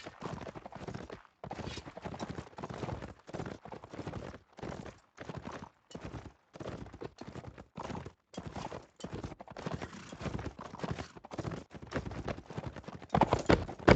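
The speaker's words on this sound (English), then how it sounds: "Harmon's got a warhorse now." Armoured warhorse hooves clip-clop in a steady, rhythmic gallop across a medieval battle game, the beats close and distinct with brief gaps between bursts and a faint whinny.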